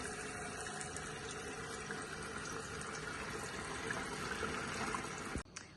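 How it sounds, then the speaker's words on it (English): Tap water runs steadily into a kitchen sink being filled for washing vegetables, a continuous close splashing rush that cuts off abruptly near the end. "I'm going to just fill my sink up with some water, wash them."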